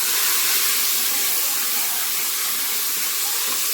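Tomato and onion sizzling in a pan for country chicken curry, a steady bright hiss of frying that holds evenly and fairly loud from start to finish with no talking.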